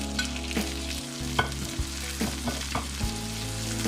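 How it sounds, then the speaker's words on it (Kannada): Chopped tomato hitting hot oil in a pan with seasoning for chana masala, a steady close sizzle with scraping stir strokes and spoon clatter throughout, no voices. "ಈಗ ಇಲ್ಲಿ ನಾನು ಟೊಮೆಟೊ ಕಟ್ ಮಾಡಿದ್ದು ಒಂದು ಅದನ್ನು ಹಾಕ್ತಾ ಇದ್ದೀನಿ ಫ್ರೈ ಮಾಡ್ಕೊಳ್ತೀನಿ"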